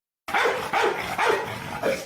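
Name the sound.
cartoon dog barking while chasing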